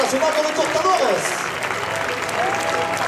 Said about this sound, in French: Applaudissements, s'il vous plaît, pour Alain Damascène